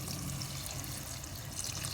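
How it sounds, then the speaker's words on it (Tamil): Water is poured into mushroom biryani masala cooking in a pot, a steady, dense, rushing pour that holds at the same level throughout, alone with no talk. "தண்ணி சேர்த்துக்கிறேன்"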